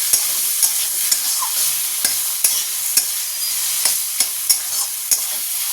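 Greens (shak) frying in a pan with red-skinned peanuts, a steady bright sizzle broken by about a dozen sharp scraping stirs at a fairly regular pace, close and loud with no voices.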